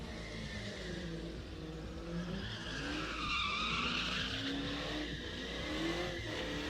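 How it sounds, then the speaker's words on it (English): A Dodge Charger doing a burnout at a drift and stunt show, its engine roaring at high revs under continuous loud tire squeal and skidding that swells toward the middle and holds steady to the end. "Dodge Chargers aren't that good at burnouts."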